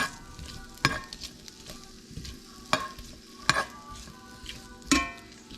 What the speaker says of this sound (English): Get this sausage going.